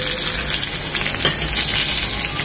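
Hilsa fish frying in hot oil in a pan, giving a steady, close, dense sizzle with faint crackles throughout and no talking.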